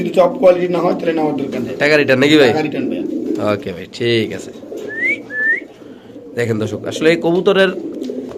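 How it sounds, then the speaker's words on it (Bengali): Domestic pigeons in a seller's coop coo softly in short rolling phrases, with a couple of brief whistle-like notes, mostly under someone speaking close by. "এই স্ট্যান্ডিং গেট আপের কবুতরগুলো দেখেন একদম সুস্থ সবল কবুতর"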